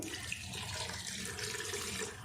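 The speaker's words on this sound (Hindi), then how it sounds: "मैं पानी इसमें गर्म डाल रही हूँ।" Hot water is poured from a glass into a mashed vegetable pav bhaji mixture in a home kitchen, a soft, continuous splashing trickle that stays faint and close.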